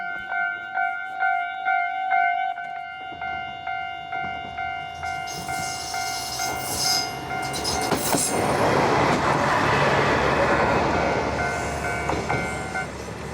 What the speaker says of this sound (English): Seems like a train's coming.